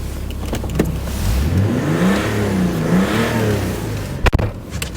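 A BMW X5 engine idles with a steady low rumble, then revs up and down in rising and falling sweeps. Sharp clicks sound near the end.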